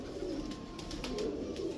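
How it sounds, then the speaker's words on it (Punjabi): Home-bred pigeons cooing softly nearby, low throaty coos rising and falling over quiet background noise, with no voices. "ਦੇਖੋ ਇਦਾਂ ਦੇ ਕਬੂਤਰ ਵੀ ਸਾਂਭ ਕੇ ਰੱਖੇ ਹੁੰਦੇ ਆ"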